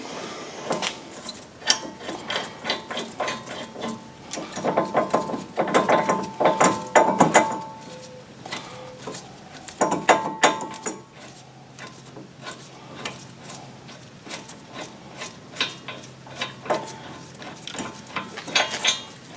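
Bolts come off the front brakes of a 2006 Chevy Silverado in bursts of close ratchet clicking and metallic clanks, with pauses between them.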